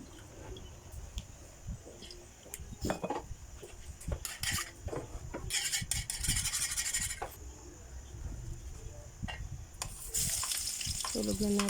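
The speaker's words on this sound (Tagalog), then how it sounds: "Simulan na natin maggisa ng bawang, sibuyas." Garlic and onion sautéing in hot oil in a pan over high heat, a steady sizzle broken by scraping stirs and clinks of a utensil against the pan.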